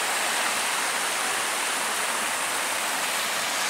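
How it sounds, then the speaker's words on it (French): Cold, snow-fed mountain stream in the Hautes-Alpes rushing steadily, a dense, even wash of flowing water filling the whole clip with no voices. "Notre beau ruisseau bien frais des Hautes-Alpes."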